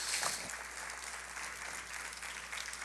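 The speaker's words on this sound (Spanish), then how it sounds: "Dele ese fuerte aplauso al Señor." Church congregation clapping for the Lord during a Spanish-language sermon, a steady, moderately faint round of applause lasting a few seconds.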